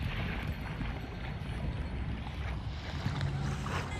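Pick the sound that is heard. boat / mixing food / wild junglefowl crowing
boat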